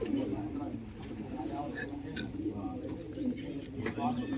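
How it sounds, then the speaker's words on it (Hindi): Pigeons cooing in a loft set up for breeding birds with eggs and chicks, a low steady murmur of calls throughout, with people talking nearby. "ये है भाई के कबूतरों का अंडे बच्चों वाले कबूतरों का सेटअप।"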